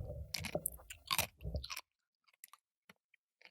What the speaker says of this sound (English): I'll finish chewing my ice first